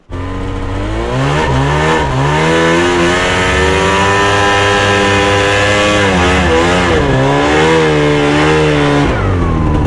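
A snowmobile engine runs loud and close on a tourist trail in Yakutia, holding a steady, rising and falling drone with revving swells throughout.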